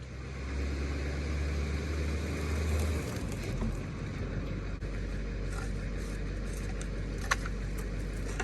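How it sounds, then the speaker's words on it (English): A pickup truck hitched to a 2019 Zinger ZR280BH travel trailer rumbles as it pulls forward from camp, with a low engine drone that drops after a few seconds, followed by faint clinks and rattles. "So I'm gonna hop in the truck, pull forward"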